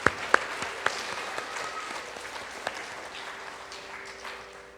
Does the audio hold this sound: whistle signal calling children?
no